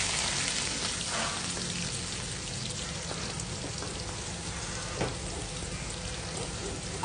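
Chopped onions sizzling and crackling in a hot pan, a steady frying hiss with occasional pops, close up and without talking.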